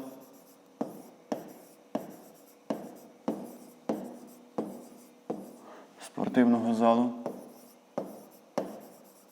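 Pen strokes scratching on paper during a fifth-grade maths lesson, a steady rhythm of short, close writing bursts roughly every half second, with a brief spoken voice breaking in near the middle.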